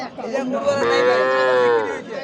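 A calf at a cattle market lets out one long, loud, close moo that rises and holds before tailing off.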